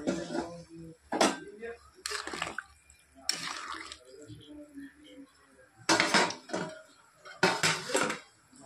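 Fried eggplant pieces go into a mustard fish curry in a pan, giving several distinct clattering knocks of utensil against metal cookware, with quiet gaps between the bursts.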